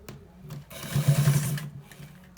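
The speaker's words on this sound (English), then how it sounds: "So we are stitching it." A sewing machine runs in a short close burst of rapid mechanical stitching along a white trouser, with quieter handling noises before and after.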